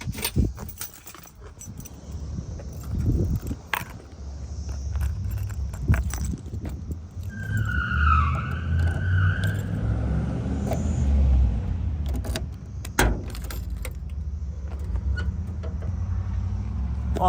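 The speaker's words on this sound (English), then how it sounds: "I'll go ahead and open the trunk for you guys before we wrap this up." Trunk of a 1966 Chevrolet Chevelle Pro Street being opened, with key jangling, latch clicks and a few knocks over a low steady engine rumble nearby.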